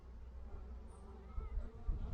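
Worker honeybees hum at an open hive during a colony split, a soft steady buzz with a few closer passes, fairly faint and with no talking.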